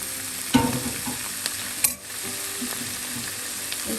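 Breadfruit drops with a thump into a pan of frying small onions for a Kerala thoran, then a constant sizzle continues under a few light stirring clinks and scrapes.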